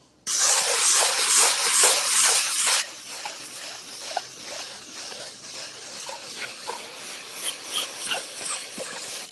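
Ski edge being sanded after scraping, giving a bright, steady hiss for about three seconds, then softer intermittent rubbing strokes that continue to the end.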